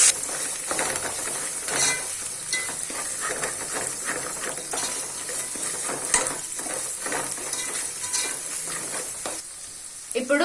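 Onions, garlic paste and mint fry in a pan with a steady close sizzle, broken by scraping and clinking as the mixture is stirred and turned.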